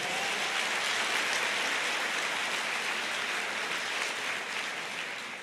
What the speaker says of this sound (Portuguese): Glória a Deus, pode aplaudir.